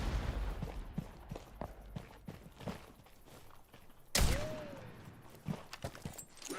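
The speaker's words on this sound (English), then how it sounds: "You see that grenade shot?" A grenade goes off in the video game Rainbow Six Siege: scattered thuds and shots come first, then one sharp, loud blast, followed by a quieter stretch with a few more impacts.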